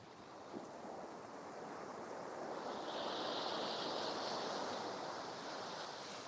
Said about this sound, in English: Oh, that was a big swell.